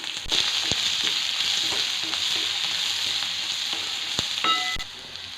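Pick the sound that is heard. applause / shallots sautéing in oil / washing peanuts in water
shallots sautéing in oil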